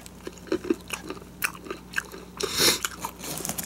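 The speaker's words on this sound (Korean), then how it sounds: "땅콩은 바삭하서 괜찮긴 한데" Crunchy spicy Chinese mala roasted peanuts chewed close up, a run of sharp irregular crunching bites with a louder burst near the end, no talking.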